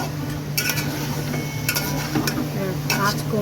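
Mutton being stirred and sautéed in a pot, with scattered clinks and scrapes of a spoon against metal over a steady low hum, fairly close.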